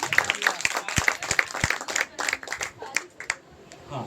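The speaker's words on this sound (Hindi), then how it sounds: "भाई ताली बजाओ" Audience at a creators meet in Bhopal claps in a dense burst, many hands close and loud, the applause rising and thinning irregularly over a few seconds.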